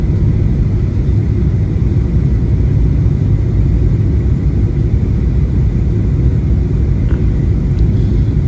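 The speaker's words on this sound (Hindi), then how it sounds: "जहाज़ नीचे आता जा रहा है, और किसी भी लम्हे हम जो है वो इस पे लैंड कर जाएंगे।" Inside the cabin of a Turkish Airlines passenger jet descending to land at Tripoli, Libya, a loud, steady low engine and airflow roar fills the whole stretch without any talk.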